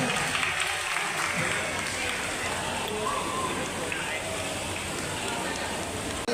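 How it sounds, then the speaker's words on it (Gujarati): Applause at a Navratri festival for people with disabilities in Jamnagar: a dense, steady wash of clapping that holds at an even level throughout, with crowd voices mixed in beneath it. "તાળીઓ"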